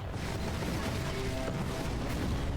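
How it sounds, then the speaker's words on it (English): Explosions rumble through a burning Mother Base in the video game Metal Gear Solid 5: Ground Zeroes, a dense, continuous low roar of booming blasts with no clear gaps, moderately loud throughout. "Those are explosions going off."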